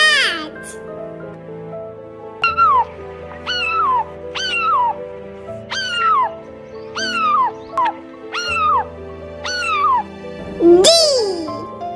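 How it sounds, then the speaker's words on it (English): A cartoon cat meows about eight times in a steady rising-and-falling series, clear and close over soft background music, with one higher squeal near the end. "C for cat."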